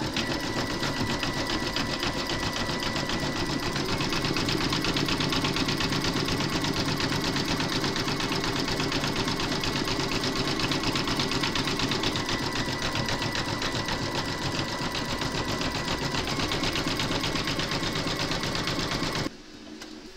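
An embroidery machine runs a continuous zigzag stitch around raw fabric edges on a gingerbread house design, a loud, even mechanical whir that holds steady for nearly the whole stretch before cutting off at the end.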